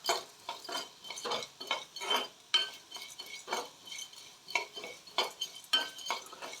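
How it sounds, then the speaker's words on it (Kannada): Coriander seeds frying dry in a pan for hotel-style sambar, stirred with a metal spoon: quiet, repeated scraping and light rattling strokes in an even rhythm, close by with no voices. "ಇದು ಇನ್ನೂ ಸ್ವಲ್ಪ ಫ್ರೈ ಆಗಬೇಕು."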